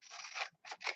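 Scissors snip through paper for a journaling page in two close, crisp bursts of cutting separated by a short pause, nearby and fairly quiet, with no talking.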